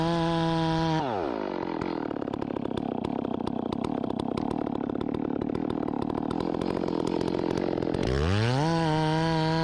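A chainsaw bucking a saw log on a yard job idles briefly, then revs to full throttle and holds a loud, steady cutting whine for about seven seconds before dropping back to idle, close by with no talk.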